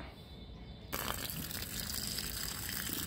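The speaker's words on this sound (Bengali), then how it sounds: "দেখুন, আমরা গাছে জল দিয়ে নিচ্ছি। আমার সমস্ত গাছের জল এই পাইপের মাধ্যমেই দিয়ে থাকি।" Water gushing from a pipe onto plants, starting abruptly after a quiet moment and then running as a steady, fairly close rushing splash.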